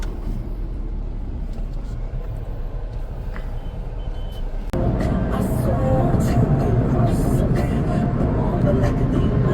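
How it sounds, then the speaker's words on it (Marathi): Heavy road traffic on a route toward Akkalkot and Tuljapur, a constant loud rumble of engines with reversing beeps and horns that grows denser partway through, with voices in the background. "खूप ट्रॅफिक झाले इथं"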